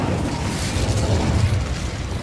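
A fiery Incendio spell blast from the Hogwarts Legacy video game, a dense roaring burst of flame that holds steady and loud for about two seconds, with no voices.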